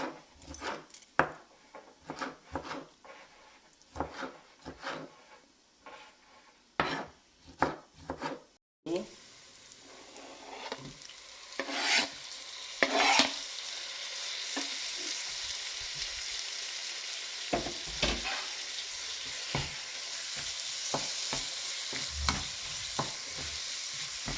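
Chicken kosa masala sautéed in a pan, with sharp irregular scraping and clanking stirs at first, then a steady, fuller sizzle of frying masala under continued stirring strokes, close and moderately loud.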